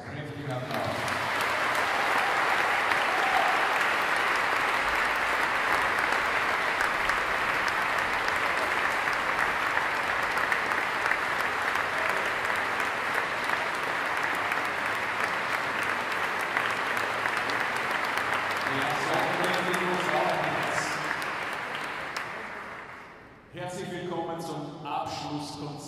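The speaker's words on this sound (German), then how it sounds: "Kräftiger Applaus." Sustained, loud applause from a concert audience at a Jewish choir festival gala fills the hall for over twenty seconds, then fades as a voice begins speaking.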